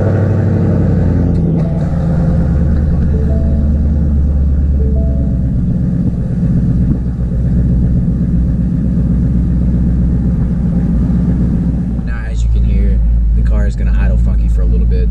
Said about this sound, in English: Going to idle funky for a little bit to burn off that remaining little bit of E85 that was in the tank